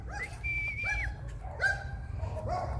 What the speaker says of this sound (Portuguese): está muito cão a ladrar, gente do céu